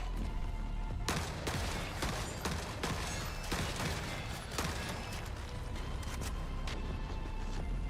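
A heavy AA-gun-like weapon fires in Forever Winter, a rapid series of hard sharp shots spaced through a dense, constant rumble of battle noise.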